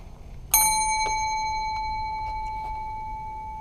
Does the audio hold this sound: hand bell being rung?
yes